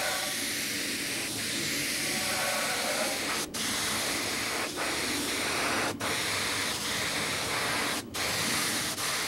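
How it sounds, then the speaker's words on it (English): Airbrush spraying paint onto a model aircraft, a steady close hiss of compressed air and paint running throughout with a few brief breaks where the trigger is released. "do the edging with the airbrush, first paint it in, and then edge it with the airbrush"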